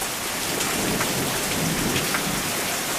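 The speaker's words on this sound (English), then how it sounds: "I mean, is it pouring? It's pouring, but the hail stopped." Heavy rain pouring down steadily outdoors just after a hailstorm, a loud, dense and continuous hiss of water striking surfaces with no voices.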